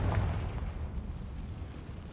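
The Confringo explosive spell goes off in the wizarding video game Hogwarts Legacy, a single deep, muffled boom that quickly gives way to a low rumbling decay.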